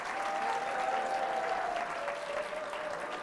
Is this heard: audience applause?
yes